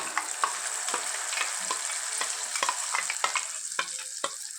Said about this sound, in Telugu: ఇప్పుడు మనము రెడీ చేసుకున్నటువంటి ఈ చట్నీని తాలింపులో వేసుకుందాం.